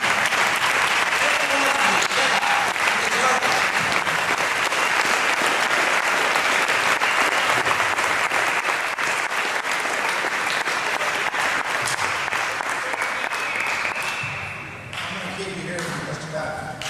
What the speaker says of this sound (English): You should stand up and give yourselves a rousing applause for your job well done.